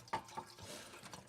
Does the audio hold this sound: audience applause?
no